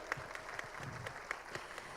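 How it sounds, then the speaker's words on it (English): A conference audience at the Indonesia AI Conference 2025 plenary, hosted by Alibaba Cloud, gives steady, moderately loud applause that continues evenly for a couple of seconds in a large hall. "Please give a round of applause"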